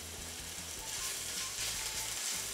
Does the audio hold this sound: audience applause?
no